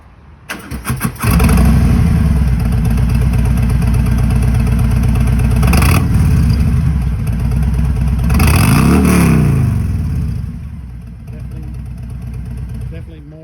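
A car engine fitted with Cobra aftermarket mufflers starts and revs hard, giving a loud, deep, rumbling exhaust note with two sharp throttle blips before settling to a steady idle.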